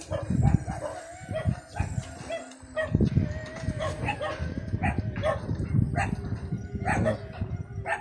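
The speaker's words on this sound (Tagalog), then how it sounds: "Parang nabulabog na yung mga aso mga tol" Several dogs bark in agitated, repeated bursts at a middle distance over steady wind noise, with roosters crowing faintly now and then.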